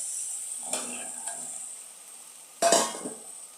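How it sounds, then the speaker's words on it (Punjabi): Boiled chickpeas are tipped into a masala in a cooking pan for chana masala: a few short scraping, splashing bursts with a faint sizzle, the loudest one near the end, and quiet between them. "ਆਪਾਂ ਚਨੇ ਪਾ ਦਿੱਤੇ"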